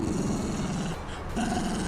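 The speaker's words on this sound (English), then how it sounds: "Make him growl, Tyler." A pet dog growls close to the microphone, a low, rough, continuous rumble lasting under two seconds with a brief dip in the middle.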